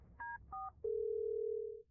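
Telephone dialing tones for a call: two short beeps, then a long steady ringback-style tone, clear and close, with no talking.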